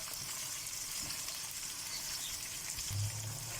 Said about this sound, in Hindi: ये हमने अपना चिकन फ्राई कर लिया है।